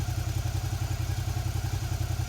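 A motorcycle engine idles close by with its radiator fan turning, after the coolant has been topped up; a steady, rhythmic throb with a faint whirring layer, and no talking.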